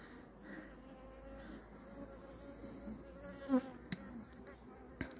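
Honey bees buzz steadily around a top bar hive at a reservoir in May, with the colony in swarming condition; the drone is faint and continuous, with a few brief louder knocks and rustles near the hive.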